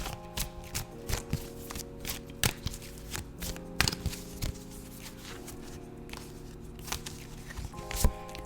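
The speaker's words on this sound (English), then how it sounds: "I'm picking two cards from this deck" Tarot cards from a Rider deck are handled and picked out: repeated soft, close slaps and riffles land in an irregular rhythm, with faint tonal music underneath.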